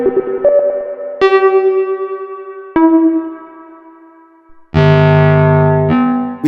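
An Intellijel Multigrain granular synthesizer module with its Blur reverb plays resonant, bell-like struck tones that ring and decay, followed by a dense, loud sustained chord near the end.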